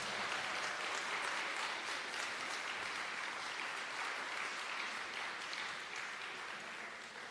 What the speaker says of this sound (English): Let's give Ms. Tanjira Huggins a round of applause.